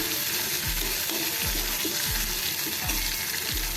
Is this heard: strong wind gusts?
no